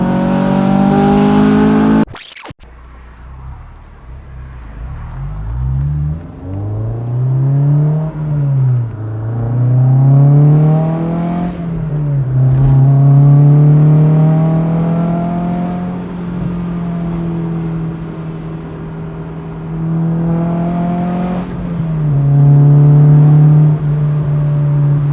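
A Honda S2000 engine drones from inside the car while cruising, climbing through several revving pulls with gear-change dips between them, loud and close, after a brief burst of noise at the start.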